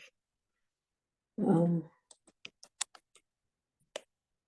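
A short burst of clicky keystrokes on a computer keyboard, about seven quick taps spaced unevenly, then a final lone tap, close and fairly quiet, following a brief moment of a voice.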